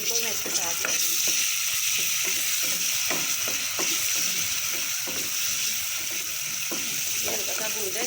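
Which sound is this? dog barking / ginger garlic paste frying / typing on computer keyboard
ginger garlic paste frying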